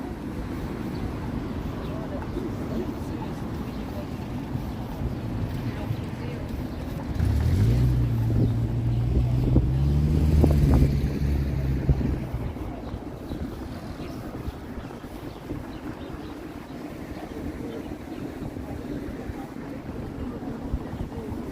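Breezy wind buffets a microphone on a Toronto city street, a steady low rumble throughout, swelling in the middle while someone speaks.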